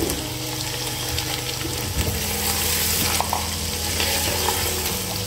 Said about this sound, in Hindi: अब इसमें हम चिकन डालेंगे जो हमने बॉईल की थी।